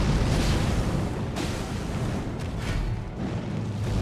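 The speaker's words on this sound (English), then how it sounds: "Oh, so even the roll R1 does the explosion." In a video game, the roll R1 attack of the Serpent's Flail sets off a loud, dense explosion: a continuous roaring burst with crackling debris and a low rumble that fills the whole moment, with no voices.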